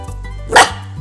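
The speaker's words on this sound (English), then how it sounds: "Every time I stop playing with him, he barks at me." A nine-week-old puppy gives one sharp, close bark, short and bright, standing out alone above a low background hum.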